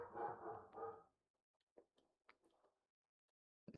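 A dog gives a drawn-out bark or whine at the start, followed by a few faint, brief yips and scuffles in otherwise quiet surroundings.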